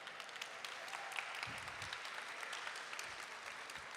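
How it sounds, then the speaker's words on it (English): Students at a robotics competition event applaud their mentors, coaches and volunteers, a wash of distant, faint crowd clapping with a few low thumps underneath. "Let me hear you applaud for them."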